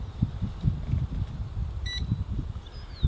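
An XK X300 brushed-motor quadcopter transmitter gives one short, bright electronic beep while binding, heard close over low handling rumble, with a faint higher tone following a moment later.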